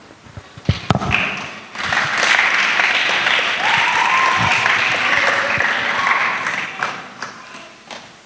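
Sustained applause from a church congregation, led by a children's group, builds after a few sharp claps and holds loud and steady for several seconds before tapering off.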